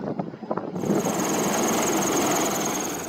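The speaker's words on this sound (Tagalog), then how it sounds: "Halos 50 feet lang ang layo ng helicopter ng Chinese Navy mula sa mga Pilipino" A Chinese Navy helicopter passing low overhead, a loud steady engine and rotor roar that swells in after a brief rustling start and holds close for the rest of the clip, with no one speaking.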